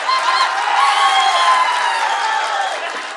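A large political rally crowd in Tamil Nadu cheers and roars continuously, a dense, loud wash of voices that holds steady before easing slightly at the end.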